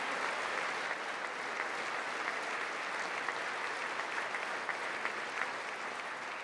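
Sustained applause fills the chamber during a 2026 State of the Union address delivered by Trump, a dense, steady wash of many hands clapping at an even level from start to finish.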